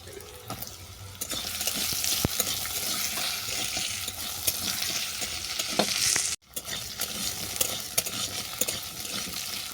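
Cut potatoes hit hot mustard oil with cumin and bay leaf in a kadai, giving a loud, close, continuous sizzling hiss with occasional spatula scrapes as they are stirred, briefly cut off midway before resuming.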